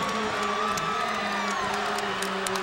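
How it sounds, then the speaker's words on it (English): A crowd cheering as a boys' high school basketball game between Teaneck and Don Bosco ends, a sustained roar with whoops and shouts filling a gym, steady and loud throughout. "the crowd goes wild"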